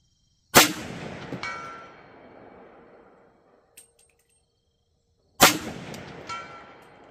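Two loud rifle shots from a Bear Creek Arsenal 16-inch 300 Blackout upper ring out several seconds apart, each with a sharp crack followed by a long echoing decay across an outdoor range.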